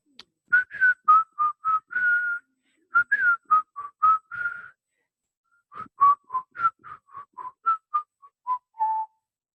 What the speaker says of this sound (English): whistle a happy tune